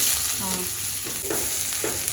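Spices crackle in hot oil as the tempering goes in for a cauliflower bhaji, with short sizzling bursts and light stirring close by, steady and busy without any talk.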